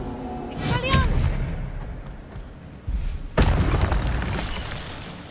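A deep booming spell blast from the Hogwarts Legacy video game: a whooshing cast, then a heavy thump about two seconds later, with a voice speaking over the start.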